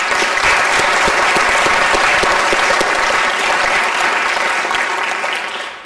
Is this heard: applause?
yes